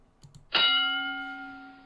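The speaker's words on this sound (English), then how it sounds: "There's the bell." A single loud ding of a boxing round bell from the PC boxing game Title Bout II, struck once after faint clicks and ringing out with a long, clear, slowly fading tone.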